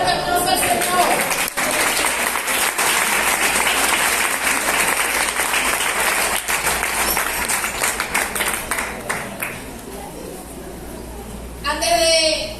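A church congregation applauds in a dense, sustained roar of clapping that fills most of the stretch, then fades as a voice begins speaking.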